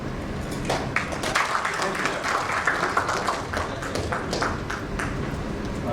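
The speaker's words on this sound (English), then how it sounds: "So let's give a round of applause for the panel." A conference audience applauds a supply chain panel, with steady, scattered hand claps running throughout at moderate level, sharp individual claps standing out, and voices underneath.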